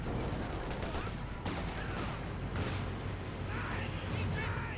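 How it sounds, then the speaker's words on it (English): Sniper and small-arms fire in the Company of Heroes 2 battle crack out as scattered shots within a dense, busy mix of combat noise, fairly quiet overall. "wiped out by the sniper on retreat"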